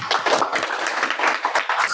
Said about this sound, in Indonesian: Tuh, tepuk tangan yuk.